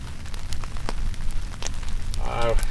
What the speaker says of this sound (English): It's raining. We're dry. We have a campfire.